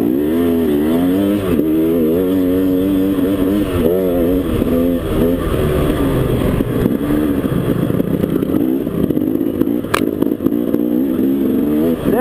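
Racing engines from trucks and motorcycles at a TCCRA event in Poolville roar continuously and loudly, with rising and falling revs layered over one another as several machines run close by, with no talk.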